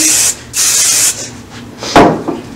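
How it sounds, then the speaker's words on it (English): Several short hissing bursts of a spray bottle, close by, with pauses between them and a brief handling knock near the end. "we're going to pull it out, we're going to spray it down"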